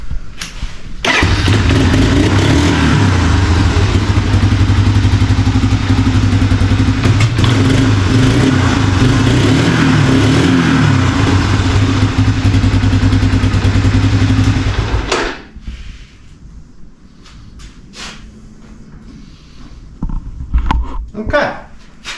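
A 1987 Honda Fourtrax ATV engine idles loudly and steadily after carburetor and choke repair, a close, even putter for about fifteen seconds before cutting off, followed by quiet clatter and handling noises.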